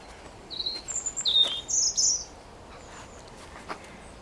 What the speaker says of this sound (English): There's a bird up there somewhere.